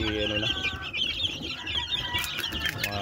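Boston Roundhead chickens clucking and squawking excitedly while being fed fresh egg, a busy close flock chorus with overlapping calls throughout.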